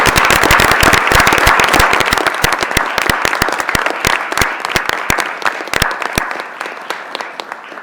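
Loud, dense applause from a meeting audience for two doctors, with sharp close claps over a continuous wash that gradually thins and fades toward the end.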